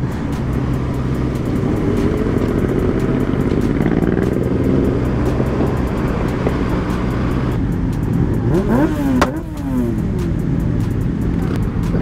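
Loud engine roar of many motorcycles riding past one after another at a season-opening motorcycle event in Częstochowa, a continuous droning rumble with a rising whine as one speeds by close.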